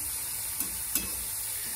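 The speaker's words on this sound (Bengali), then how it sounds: "এই যে আলু ভাজাটাও প্রায় হয়ে গেছে" Sliced potatoes frying in oil in a home kitchen pan, a continuous close hiss and sizzle with two faint soft stirring clicks partway through.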